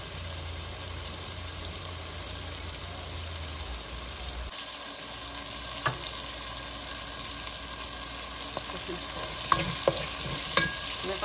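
Sweet pumpkin leaf greens stir-fry in a pan, giving a continuous close sizzle with scattered scraping clinks of a spatula and some wet crackling, with no talking.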